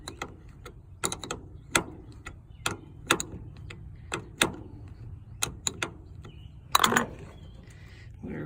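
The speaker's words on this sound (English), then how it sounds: "Here's my 1/2 inch ratchet wrench." A 1/2 inch ratchet wrench tightens a starter cable connection on a 1987 Dodge Ram D100 with a 318 engine, producing sparse, close clicks and ratcheting bursts at irregular intervals, without speech.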